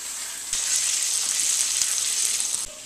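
Steak sizzles in a hot pan with a steady, bright frying hiss that starts abruptly. Faint clicks are heard under the sizzle, and nobody speaks.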